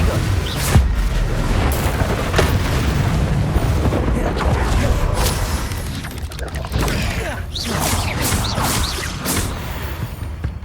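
Repeated booming blasts and crashes of the Confringo explosive spell during an arena battle in the Hogwarts Legacy video game, loud and dense over about ten seconds with a steady roar of combat and faint voice.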